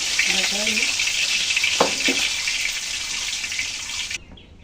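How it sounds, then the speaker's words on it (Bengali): Whole cumin seeds dropped into hot oil left from frying hilsa fish, a loud steady sizzle with a couple of metallic taps, cutting off abruptly near the end. "এখন ফোড়নে দিয়ে দিচ্ছি শুধু গোটা জিরা"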